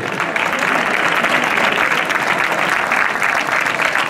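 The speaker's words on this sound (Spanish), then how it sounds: "un fuerte aplauso para él." Spectators at a bull event in Moncada, Valencia clap loudly and continuously, a dense, even burst of crowd applause lasting a few seconds without letting up.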